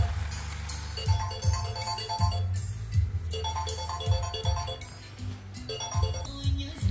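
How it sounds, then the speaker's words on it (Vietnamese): A phone ringtone plays a repeating electronic melody in bursts, moderately loud and close, while no one speaks. "Em có điện thoại một tí nha."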